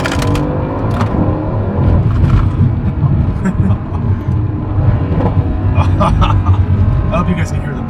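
A 2016 Mercedes C63s AMG with its multi-clutch transmission throws two downshifts and pulls hard, the engine roaring and rumbling close up with crackling exhaust pops mixed in, while a voice talks over it.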